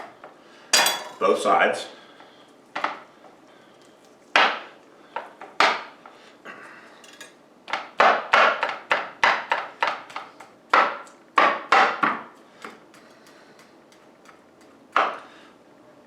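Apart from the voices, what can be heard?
puncturing raw lamb shanks with a knife for marinade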